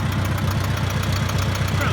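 A Farmall Cub tractor engine, low on hydraulic fluid, runs steadily at idle with a close, even low-pitched chug and rapid rhythmic firing pulses throughout.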